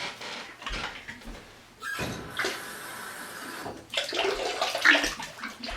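Water pours in bursts with splashing and trickling, a few separate pours with brief pauses and small knocks between them, close by.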